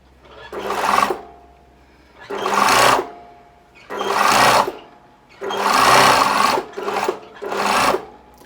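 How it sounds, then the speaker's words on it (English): A sewing machine stitches across fabric close to the edge in six short bursts, its rapid whirring needle clatter starting and stopping in an uneven rhythm, loud and close. "sewing very close to the edge."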